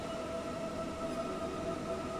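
A model train runs in the railway simulator game Rolling Line, giving a steady, continuous rolling rumble with a faint high tonal hum and no other sounds.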